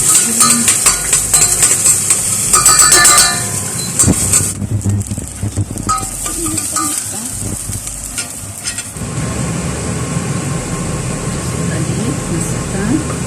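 Potato fries dropped into hot oil for a second frying while making a Belgian dish: a loud, close, crackling sizzle with stirring and clinks of utensils, heard under a person talking.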